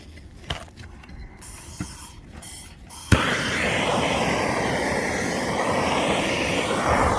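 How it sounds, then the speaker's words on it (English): A propane torch flares up with a sharp click and then roars steadily as it heats a cold asphalt roof shingle outdoors, following a few seconds of quieter background rustling. "Just get you a torch and just heat it up."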